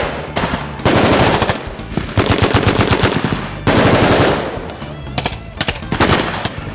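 Machine guns fire in long, loud bursts during a military training exercise, several rapid strings of shots separated by brief pauses, close and harsh.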